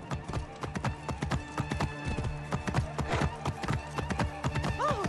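Horse hooves clip-clop in steady rhythm through Assassin's Creed Origins, loud and close, with a horse neighing and whinnying near the end.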